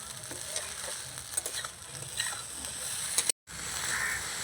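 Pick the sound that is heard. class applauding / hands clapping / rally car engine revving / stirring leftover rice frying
stirring leftover rice frying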